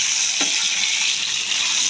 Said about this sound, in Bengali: লাল করে আলুটা ভেজে তুলে রাখবো,